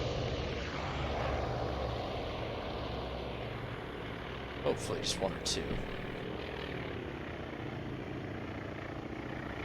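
A propeller-driven search plane in the naval strategy game Task Force Admiral gives a steady, low engine drone throughout, with someone talking over it.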